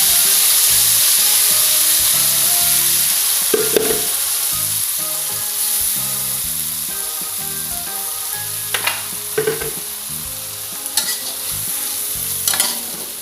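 Hot oil sizzles steadily in a pan, heated to cook a semur of fried sunny-side-up eggs, a broad constant hiss with a few clinks of utensils and no talk.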